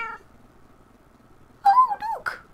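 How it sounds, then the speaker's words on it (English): A cat meows in the video game Minecraft, a clear close meow with a bending, wavering pitch followed by a shorter second call, after a quiet pause. "Oh, look! I have a kitty!"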